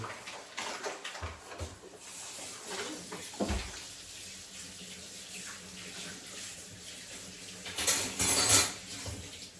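Running tap water splashes over dishes in a sink, with clinking plates and cutlery heard close up, steady throughout with a louder rush of water near the end.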